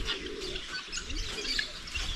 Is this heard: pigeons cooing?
yes